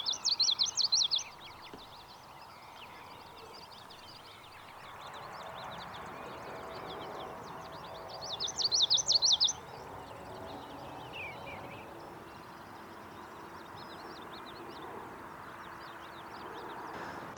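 Sparrows foraging in grassland at sunrise chirp in quick, high bursts, two brief clusters standing out over a quiet, grassy outdoor ambience with faint scattered calls between.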